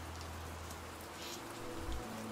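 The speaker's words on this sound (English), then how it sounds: "Roman, I think if you look outside the window, you might hear the rain." Steady rain falling outside an open window, a dense even hiss of drops on surfaces with a low background hum, constant and moderately faint throughout.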